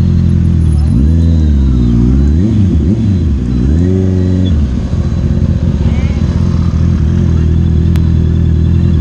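A Honda CBR650R superbike engine revs loudly and close, rising and falling through several throttle blips before settling into a rough idle, with voices talking over it.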